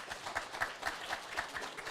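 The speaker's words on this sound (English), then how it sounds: "All right, another round of applause" Faint, distant applause from an audience at an AI hackathon showcase and awards ceremony, a soft wash of many hands clapping with a few louder claps poking through.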